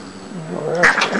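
A vocal four-year-old Siamese cat gives a single drawn-out, rising meow-like yowl, close and fairly loud, with no talking.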